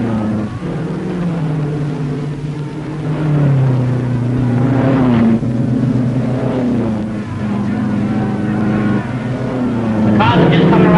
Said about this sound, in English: Cars are just coming around the track, and it's just a matter of minutes before the race.